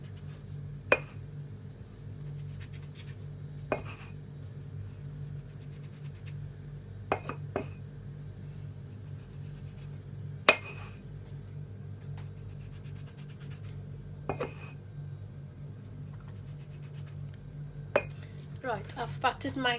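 Pastry circles being cut for Brie, fig and caramelised onion tartlets, with soft sharp taps and scrapes of a cutter on a kitchen work surface, spaced irregularly against a quiet low hum.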